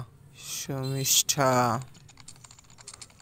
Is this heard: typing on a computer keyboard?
yes